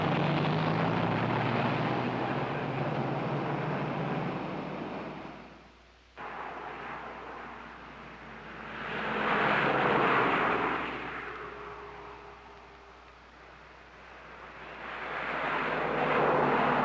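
1950s cars accelerating hard from a flagged standing start on a test run, a loud broad engine roar that swells, briefly cuts out, then surges again twice as the cars pass.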